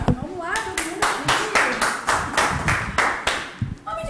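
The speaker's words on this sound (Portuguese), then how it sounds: "Palmas," Hands clap in a steady, even rhythm of about ten sharp, loud claps, with a voice speaking briefly at the start and again at the end.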